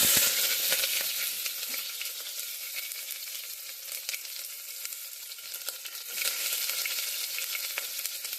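Onions frying in a pan with lentils as dal khichdi is cooked, a steady loud sizzle with stirring scrapes throughout and a brief burst near the start and again toward the end, no talk.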